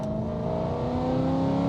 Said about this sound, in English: Genuinely sounds like the wheel is going to fall off.